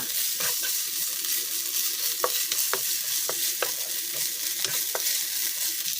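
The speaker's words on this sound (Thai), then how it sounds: "ใส่สามเกลือลงไปค่ะ สามเกลือก็จะเป็นกระเทียมพริกไทยรากผักชีนะคะ ผัดให้หอมเลยค่ะ" A paste of garlic, pepper and coriander root is stir-fried in garlic oil, sizzling steadily while a utensil scrapes and taps the pan in scattered sharp strokes, near and clear.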